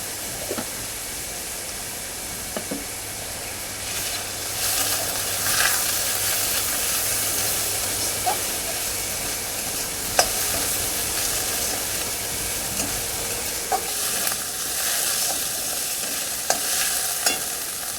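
Onions fry on a low flame with turmeric in a pan, a soft continuous sizzle with occasional light clicks from stirring, steady and fairly quiet with no voices.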